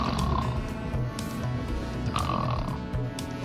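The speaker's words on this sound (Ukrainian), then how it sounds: "ты можешь не храпеть" Loud, continuous snoring with grunting, snorting breaths from a partner in bed, sustained through the whole stretch with rough, throaty pulses.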